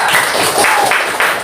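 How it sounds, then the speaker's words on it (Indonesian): A classroom group claps for a student group's presentation in a short, loud burst of uneven hand claps lasting about a second and a half. "Ya, tepuk tangan untuk kelompok 3"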